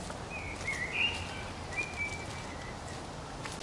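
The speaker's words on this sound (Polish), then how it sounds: "Cisza, spokój, ptaszki śpiewają." Faint birdsong with a few short whistled phrases over steady outdoor background noise, distant and sparse, in the spa park in Świnoujście.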